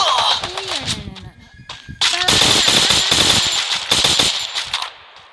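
Rapid bursts of automatic gunfire from a video game, loud and dense, with shots blending into an almost continuous rattle under excited talking.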